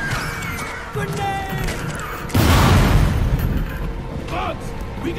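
A grenade blast from the Starship Troopers Invasion film bursts out loud and broad midway, rumbling over dense battle noise and shouting voices, then decaying into ongoing combat din.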